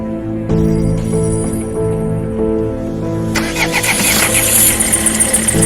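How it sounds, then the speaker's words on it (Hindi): A car engine cranks and starts, then settles into a steady mid-pitched hum that swells into louder revving as the car pulls away, with no talking over it. "गुल्ली गुल्ली गाड़ी में बैठकर शॉन के घर की तरफ निकल जाती है"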